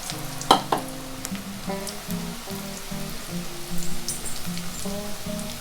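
Cabbage pakoda batter dropped into hot oil in a home kitchen, a steady soft sizzle and bubbling with a few sharp crackles and utensil taps early on, moderately quiet.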